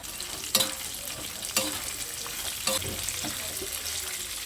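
Dry coconut, roasted gram and raisins frying in a pan, a steady soft sizzle broken by a few sharp clanks of a spoon stirring against the pan.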